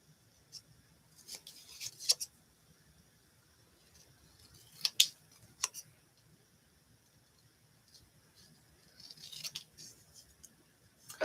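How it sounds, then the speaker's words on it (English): Scissors snip out craft pieces in a craft room, crisp close cuts arriving in scattered clusters separated by quiet pauses, with faint sounds of handling paper between them. "You just cut the pieces out."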